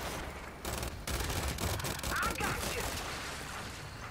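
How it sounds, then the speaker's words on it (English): Tap-fired gunshots ring out in Gears 5 Horde mode on the Asylum map, a dense run of sharp shots over steady game noise with a voice talking over it. "Tap firing from that far away did the job."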